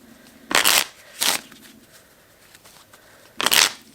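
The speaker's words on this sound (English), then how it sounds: "put the 8 of Hearts back in and shuffle" Deck of playing cards being shuffled in three quick riffling bursts, the last after a pause, close and crisp with no talking.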